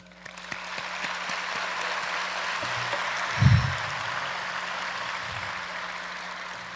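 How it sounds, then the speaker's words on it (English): Graduates at an in-person university commencement ceremony give a sustained round of applause, a steady wash of clapping from a large crowd heard from a distance, with one brief louder thump partway through. "Give yourselves a round of applause"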